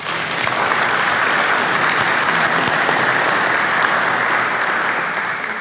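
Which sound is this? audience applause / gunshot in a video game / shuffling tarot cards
audience applause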